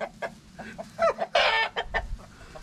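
Guinea fowl sounding a warning call in a farmyard, a run of harsh, rapid clucking bursts at close range, loud and alone with no talk over it.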